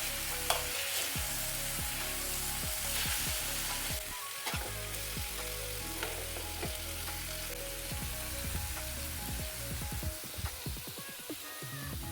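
Mackerel (bangda) sizzles steadily in hot masala in a home kitchen pan, a continuous loud frying hiss with repeated scraping stirs and occasional clinks of a spatula throughout.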